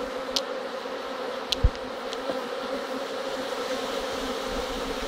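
Honeybees buzz around an open hive in a continuous low droning hum, with a few faint, brief ticks and knocks scattered through it.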